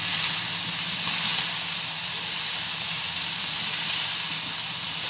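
Tomatoes and liver for Alexandrian-style liver stir-fried in a hot pan, giving a steady, loud hiss that stays even for about five seconds with no voices.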